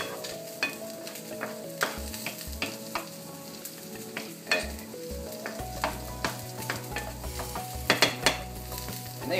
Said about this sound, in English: Now that we've got a good sear on it, we're going to want to turn the heat down a little bit